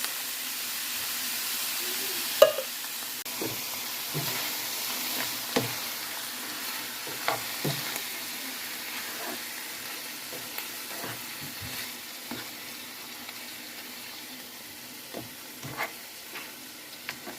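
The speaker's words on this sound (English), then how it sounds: "And now we add the tomato sauce." Tomato sauce simmers in a pot of poor man's goulash, giving a soft continuous sizzle with intermittent spoon scrapes and stirring clinks at moderate volume.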